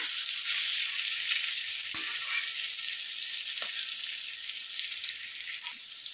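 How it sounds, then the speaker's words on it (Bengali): Potatoes fry in a pan, making a constant, close crackling sizzle that holds steady at moderate loudness, with a few faint stirring knocks and no voices. "আলুটা একটু ভাজা ভাজা করে নিতে হবে আগে"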